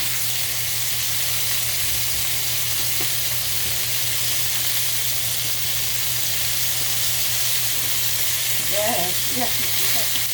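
Lamb chops for a brown sugar balsamic mint dish sear in a hot pan with a steady, loud sizzle throughout, and a few brief clinks of handling near the end.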